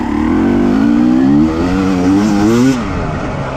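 A KTM TPI two-stroke motorcycle accelerates hard through its gears, the close, loud engine note rising in pitch and then dropping as each shift up goes in, with no voices over it.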